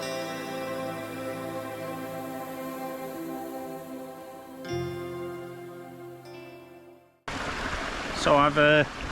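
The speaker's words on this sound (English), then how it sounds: "I've come up to this part of the waterfall here" A waterfall in Snowdonia roars in close and loud only in the final two seconds, after a stretch of tonal music, with someone talking over the rushing water.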